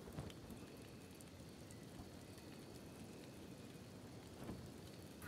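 Rain falls in the video game Kenshi, a soft, steady hiss of drops with a couple of faint crackling bursts near the start and end, quiet and distant throughout.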